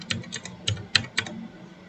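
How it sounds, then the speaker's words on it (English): Quick keystrokes on a computer keyboard, about half a dozen light, close clicks in an uneven rhythm, alone in a quiet room. "Here you have to type live server."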